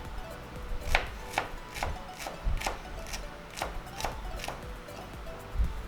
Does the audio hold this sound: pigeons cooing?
no